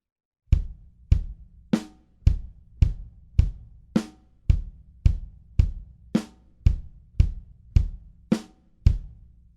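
Drum groove in 4 with bass drum hits on beats 1, 2 and 4 and a crisp snare on beat 3, repeating steadily for about sixteen hits, close and dry with no talk.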